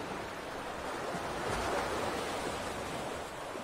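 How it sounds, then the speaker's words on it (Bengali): Sea waves of the incoming tide wash against the shore of Mousuni Island, a steady broad roar of surf that swells slightly midway, with no talk. "জোয়ার এসছে,"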